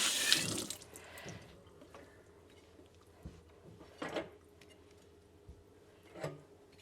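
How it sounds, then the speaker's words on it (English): Canning jar bands washed with soap under a running kitchen tap, with a burst of water at first, then quieter rinsing, scattered metallic clinks and handling knocks, with no talking. "Now I need to wash the bands."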